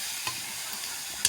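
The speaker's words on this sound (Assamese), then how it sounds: "চব্জিটো মোৰ এইফালে ভাজি হৈ গ'ল" Vegetable curry fries in a pan with a soft, steady sizzle, broken by a couple of light clicks from stirring, quiet and close with no voices.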